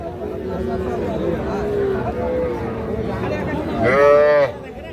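At a cattle market, people talk continuously while a roughly three-month-old bull calf lets out one short, nasal moo close by near the end.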